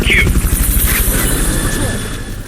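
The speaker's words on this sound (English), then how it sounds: "Fulton recovery subject confirmed onboard helicopter" A helicopter in Metal Gear Solid Peace Walker thrums with a steady rotor pulse close by, under a radio voice talking, the drone fading slightly toward the end.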